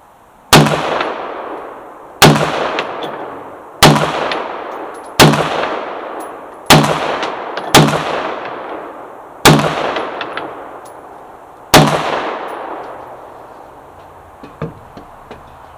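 A Ruger AR-556 pistol fires seven sharp, loud shots at an outdoor range, spaced roughly one to two seconds apart, each crack followed by a fading echo and a quiet tail at the end.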